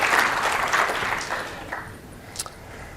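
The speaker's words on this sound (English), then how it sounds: "So yes, applause" Brief applause from a conference audience at a Microsoft Build 2018 session, a short patter of scattered clapping that tapers off within a few seconds.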